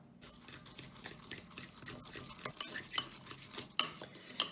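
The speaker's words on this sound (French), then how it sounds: "Donc, on mélange bien le flocon d'avoine avec l'œuf." A utensil stirs 30 g of oat flakes into an egg in a bowl for a bowl cake, making quick rhythmic clinks and scrapes that grow sharper toward the end.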